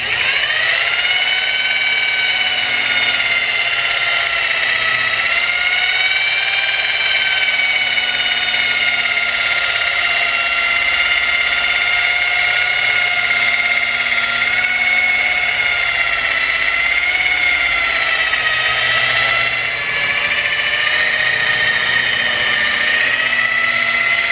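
A rotary polisher spinning at about 4,000 RPM buffs car paint, giving a loud, steady high-pitched whine with slowly wavering tones that runs without a break and dips briefly near the end.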